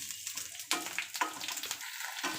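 Green chillies sizzling in a little oil, faint crackle with a few sharp stirring scrapes, close and quiet.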